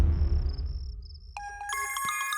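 A mobile phone ringtone starts up after a low rumble dies away, a bright electronic melody with repeated chiming tones, close and clear, with no talking.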